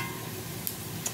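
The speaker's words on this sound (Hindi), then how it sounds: "लहसुन अच्छा सा फ्राई हो जाना चाहिए" Garlic, cumin and mustard seeds sizzle in hot oil for a tadka for masoor dal khichdi, a steady dense hiss with a couple of faint ticks, close and continuous.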